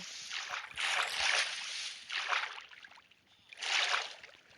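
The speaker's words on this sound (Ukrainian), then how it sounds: "Так, це дуже бурхливий водоспад." Rushing, turbulent water from a waterfall during a flood roars in broad surging waves, swelling and easing several times, close and steady with no voices.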